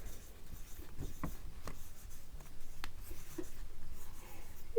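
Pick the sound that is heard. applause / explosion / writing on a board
writing on a board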